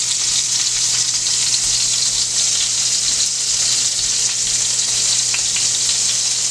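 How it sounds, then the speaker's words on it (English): Buttered burger buns toast in a hot pan with a steady, close, continuous sizzle and crackle that holds evenly throughout, with no talking. "I'm gonna go ahead and start warming up the buns. I like to put butter for that flavor."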